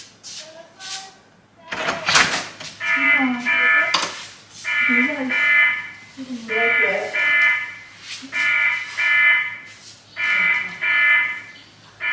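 A quarantine hotel room alarm bell rings in repeated loud electronic bursts of buzzing tone, each about a second long with short gaps, continuing steadily throughout; no talking.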